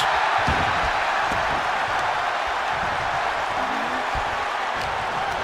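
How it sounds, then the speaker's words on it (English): A virtual arena crowd in the WWE 2K25 wrestling game cheers steadily at high volume, with some faint thuds scattered through the roar. "Listen to this crowd."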